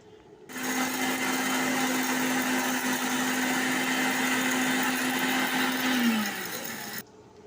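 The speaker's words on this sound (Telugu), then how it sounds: "తురిమిన కొబ్బరి పొడుము, తురిమిన బెల్లం అన్నీ కలిపి మిక్సీలో బరకగా వేసుకోవాలండి" A mixer grinder runs steadily for about six seconds, coarsely grinding sesame seeds, roasted peanuts, grated coconut and grated jaggery for sesame laddu, with a loud continuous whir that winds down at the end.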